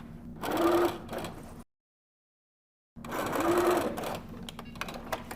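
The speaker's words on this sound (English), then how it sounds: "We'll go ahead, lift our needle up, and just stitch over that area, making sure that our hinge is nice and secure." A sewing machine stitches laminated cotton for a duffle bag, two close, steady whirring runs of stitching separated by a pause of silence.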